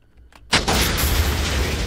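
Stacked TNT minecarts blow up in Minecraft, a sudden heavy boom about halfway through that rolls into a long, loud, noisy rumble of continuing explosions.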